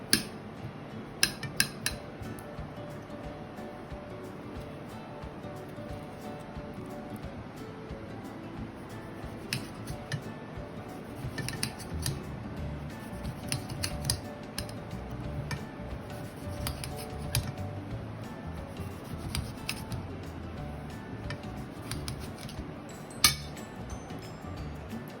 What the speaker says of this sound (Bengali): এই টমেটোটা আমি স্লাইস করে কেটে দেবো।